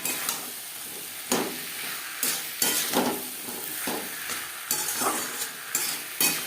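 Four peeled, lengthwise-cut potatoes stirred with spices in an oiled pan for tilapia fish curry: a steady close sizzle broken by repeated scraping spatula strokes at an irregular pace, with no talking.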